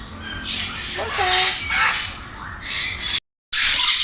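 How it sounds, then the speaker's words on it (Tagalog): Large birds, called Adarna birds, squawk and screech in repeated harsh calls at an outdoor resort in Pampanga, close and fairly loud, with greetings and chatter from people mixed in. "Ito guys oh, lalaki ng mga ibon guys."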